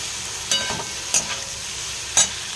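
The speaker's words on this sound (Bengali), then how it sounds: "চিকেন সবজি সব একসাথে কিন্তু আমি ফ্রাই করে নিচ্ছি।" Chicken and vegetables fry together in a pan with chili powder, giving a steady close sizzle broken by a few sharp stirring scrapes.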